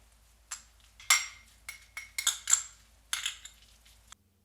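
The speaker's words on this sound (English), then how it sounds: "And then just give it a good mix." Clinks and light clatter of a utensil stirring crab salad sauce into poke in a bowl: about eight short, bright taps and scrapes in an irregular rhythm, close and fairly quiet, with no voices.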